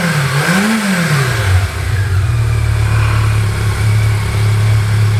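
A BMW K1200 LT Lux SE touring motorcycle engine runs after start-up while the bike sits on its stand, a brief rev rising and falling before settling into a steady, loud, close idle hum.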